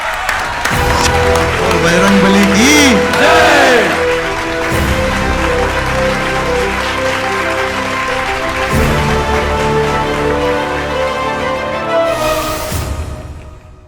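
A stage-show audience applauds steadily while voices chant and call out over the clapping, loud and sustained before fading toward the end, welcoming a performer dressed as Hanuman.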